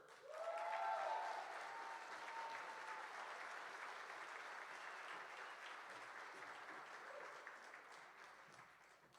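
An awards event audience breaks into loud, sustained clapping to welcome Stephanie Hooper, with a few cheers at the start, and the applause slowly thins over about nine seconds.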